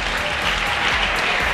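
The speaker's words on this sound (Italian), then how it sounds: "un applauso al coach" A crowd claps for the coach at a volleyball club event, with loud, dense applause filling the short moment without a break.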